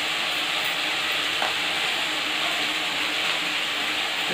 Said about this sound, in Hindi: इसके बाद अच्छी तरह से चलाते हैं।